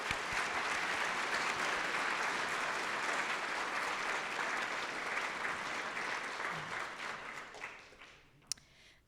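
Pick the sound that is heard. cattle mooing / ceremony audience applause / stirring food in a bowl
ceremony audience applause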